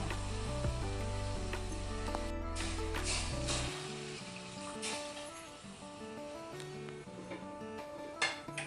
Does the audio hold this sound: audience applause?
no